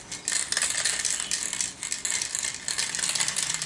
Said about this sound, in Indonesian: Kita semprotkan lagi yang kira-kira masih kurang.